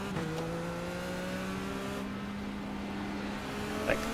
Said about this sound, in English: Watch your mirrors, there's a car approaching.